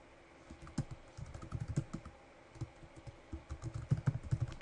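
Someone types an email address on a computer keyboard, with quick irregular bursts of soft key clicks separated by short pauses, close and quiet.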